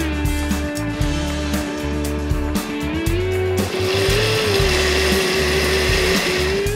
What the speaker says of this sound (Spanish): procedemos a ponerlos en la licuadora con mucho cuidado